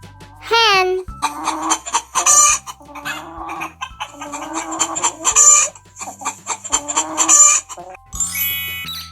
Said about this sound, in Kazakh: Тауық,